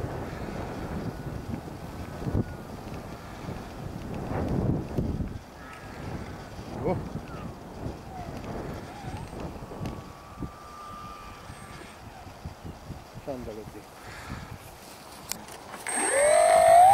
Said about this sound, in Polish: masz taki strasznie mocny wiatr